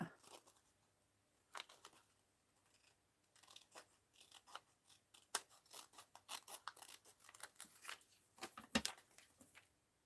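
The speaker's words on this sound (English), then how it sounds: "Let's cut that little bit out." Scissors snip through paper for a space-themed art collage, with irregular clusters of crisp close cuts and rustles, some louder snaps near the end, and no talking.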